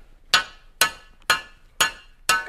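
Five sharp, ringing taps on a solid glass fishing rod blank, evenly spaced about half a second apart, each decaying quickly, close and clear.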